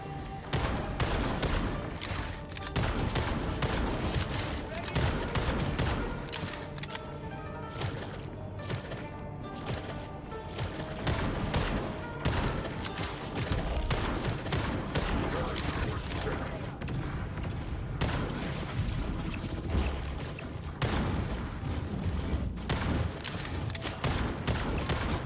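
Rapid bursts of gunfire from the video game Marvel Rivals fire almost continuously, dense and loud with crashes and booms mixed in, while a voice speaks at moments over the shooting.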